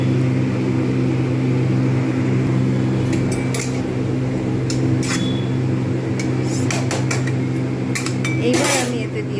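Prawns and mustard paste are stirred in a pan while cooking Bengali prawn spinach. A spoon clinks and scrapes sporadically against the metal, and a steady low hum runs beneath the whole clip.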